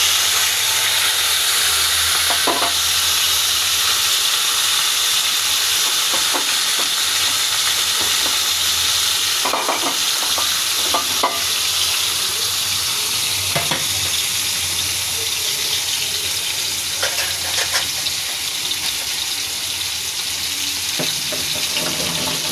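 Onion and garlic sizzling in a hot pan with cinnamon and cumin while cooking jute leaves, a loud, steady frying hiss with occasional scraping stirs, no talking.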